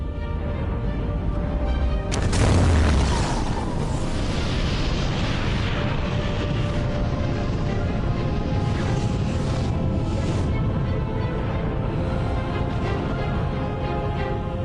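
Planet Theia slamming into Earth, rendered as a sudden massive boom followed by a long, dense roaring rumble that persists loud and unbroken to the end.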